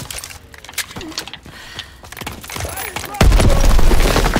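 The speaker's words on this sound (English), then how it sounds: "I didn't want to throw that grenade anyways." A grenade blast and bursts of gunfire in Call of Duty: WWII multiplayer, a dense crackle of shots building into a loud, sustained roar of explosion and fire in the final second.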